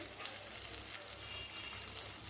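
Nigella seeds and green chilies fry in hot oil with a steady, close, bright sizzle that crackles evenly throughout, with no talking.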